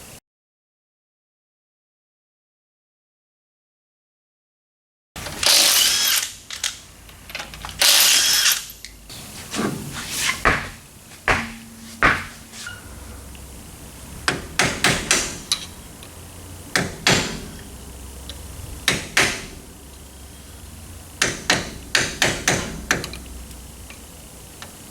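Brake drums and backing plates being stripped off the front spindles of a 1970 Pontiac LeMans, with sharp ratcheting clicks, metallic clanks and scraping bursts at close range after several seconds of silence.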